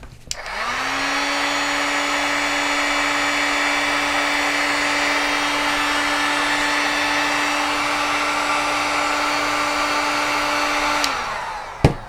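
A heat gun shrinking heat-shrink tubing over a soldered wire runs with a steady, close fan whine and rushing air for about eleven seconds, then switches off.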